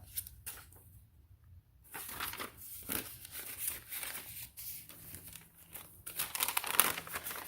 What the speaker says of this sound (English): I love the sound and feel of crunchy paper.